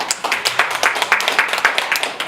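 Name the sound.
audience clapping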